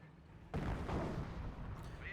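Anti-tank gun and sniper fire in the strategy game Company of Heroes: one heavy, booming blast bursts in suddenly and rolls on with a long, noisy rumbling decay, loud and close.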